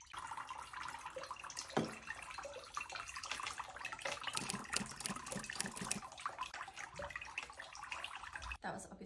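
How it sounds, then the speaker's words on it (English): Water being poured into a pot of soil while repotting a Monstera adansonii, a steady faint splashing and trickling with quiet talk over it. "I'm just going to use the same water that she was in. I'm going to pour it all in."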